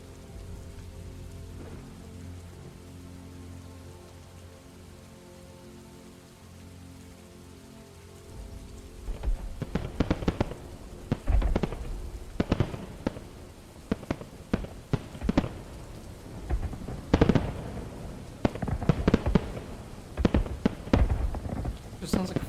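Warfare ambience from a video game sound library, resembling fireworks: a steady low rumble gives way after about nine seconds to a dense series of sharp, loud cracks and pops at irregular intervals.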